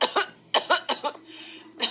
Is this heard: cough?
yes